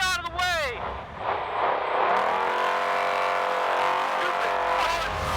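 An off-road race car roars through the San Felipe 250 Baja race in Mexico, its engine revving loud and close with rising and falling pitch, while someone shouts over it.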